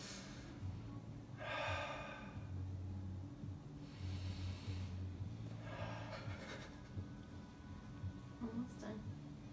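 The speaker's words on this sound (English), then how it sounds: "That's a lot of breathing." Heavy breathing close to the microphone: a few slow, deep inhales and exhales in a loose rhythm, each rasping breath standing out against a low background hum.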